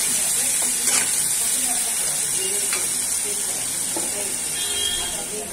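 Potato and pointed gourd curry with ginger, cumin, tomato and garam masala sizzles in a pan, a soft steady hiss with scattered small pops and stirring scrapes.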